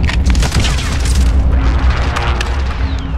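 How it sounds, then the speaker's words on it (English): Airstrike explosions in Call of Duty: Modern Warfare, a sustained loud rumbling boom with crashing debris filling the whole stretch, heavy and continuous. "There's an airstrike, get down!"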